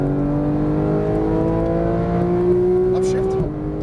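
A 991-generation Porsche 911 GT3 engine pulls hard under acceleration on a track, its tone climbing steadily before a quick shift near the end, with a voice talking over it.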